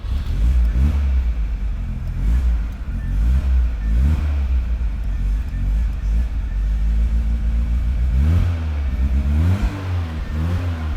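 A car engine runs steadily at a loud, close range, with repeated revving surges that rise and fall in pitch over a continuous low rumble.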